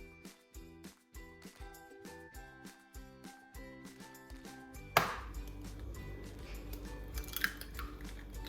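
Cold butter is chopped into flour for a Napoleon cake pastry: quick, evenly spaced knife strikes tap steadily for several seconds, close and fairly quiet, before giving way to a softer, rough scraping and mixing noise.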